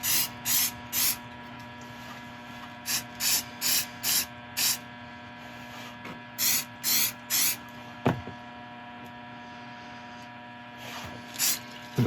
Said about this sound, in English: and then I'll spray it with an accelerant.